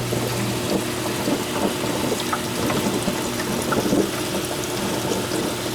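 Steady broadband rush of water running and trickling over an algae screen in a 220-gallon saltwater reef tank, with a constant low pump-like hum underneath, fairly close and continuous throughout.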